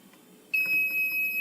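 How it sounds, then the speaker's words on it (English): A passive infrared motion sensor wired to an Arduino sounds its alarm, a sudden, sustained, high, piercing electronic beep that starts abruptly and holds steady over faint background noise. "See, I am going to give continuous motion. The sensor will get beep continuously."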